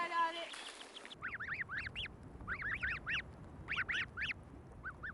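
Snow geese call near the Arctic Circle on Bylot Island in spring, a series of repeated honking calls in short bursts over a quiet outdoor background, following a brief electronic tone at the start.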